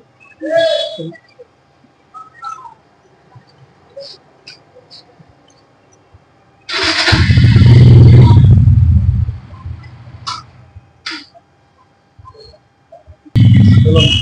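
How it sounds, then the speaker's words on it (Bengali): A second-hand N160 motorcycle being started at a bike showroom: after near silence, its engine bursts into a loud, low rumble for a few seconds, drops away, then roars again at the end. "তো গাড়ি স্টার্ট করো"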